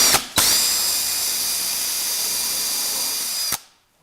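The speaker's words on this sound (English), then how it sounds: "I'm just using the pre-drill and countersink" A power drill with a removable pre-drill and countersink bit whines loudly and steadily for about three seconds after a brief first burst, then stops abruptly, close to the microphone.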